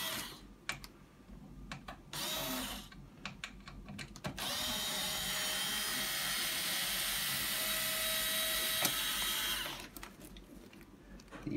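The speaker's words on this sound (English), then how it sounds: "And just start removing these screws." A powered screwdriver backs screws out of the shopping basket on a Stokke Trailz, with a few clicks, then a loud, steady whir for about five seconds before more light clicks and handling noise.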